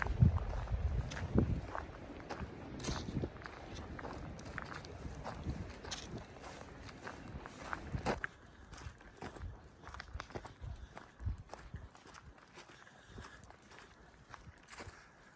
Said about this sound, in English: We're going to walk out this road here.